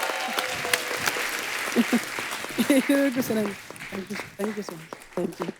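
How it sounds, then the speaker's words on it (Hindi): Studio audience applause for a guest on a Hindi TV comedy talk show, a steady wash of clapping through the whole stretch with a host's voice talking over it. "जोरदार तालियां सलमान के लिए।"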